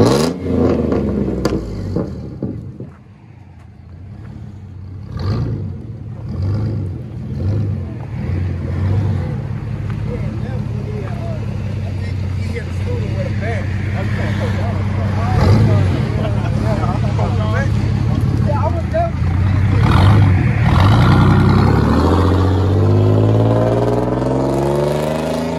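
A 2003 GMC truck with a V6 engine and aftermarket exhaust rumbles low, then revs up in rising, sustained pulls, loud and close, with people talking in the background throughout.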